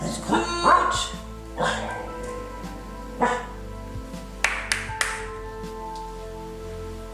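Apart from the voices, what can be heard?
shepherd dog barking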